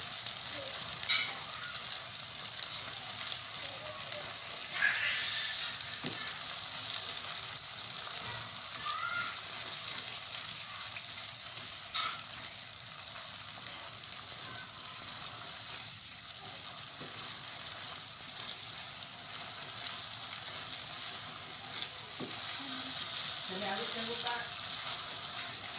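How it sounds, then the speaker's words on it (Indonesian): Tauco, fermented soybean paste, sautés steadily in a pan for soto, giving a continuous sizzle and crackle with occasional stirring scrapes, moderately close and without speech. "Kita tumis lagi sampai matang. Kalau sudah matang, baru kita masukkan tauconya."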